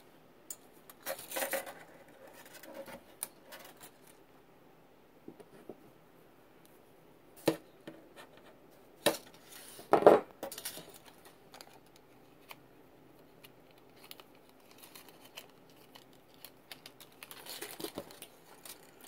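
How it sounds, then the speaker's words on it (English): Pliers snip green craft wire into pieces, leaving a few sharp, faint clicks and snaps scattered over quiet stretches, with light handling rustles between cuts. "we are going to cut two 10-inch pieces of our green craft wire"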